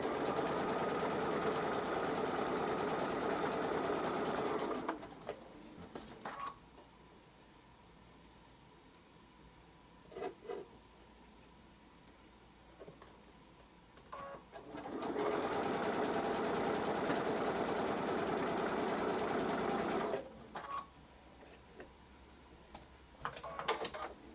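A sewing machine runs scant seams on quilt fabric scraps in two long, fast, buzzing bursts of about five seconds each, separated by quiet handling clicks and fabric shuffling.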